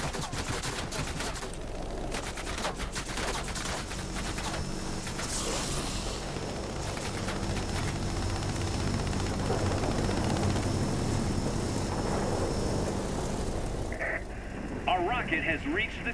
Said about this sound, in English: The rear gun doesn't appear to have the greatest... Mind you, it's firing now.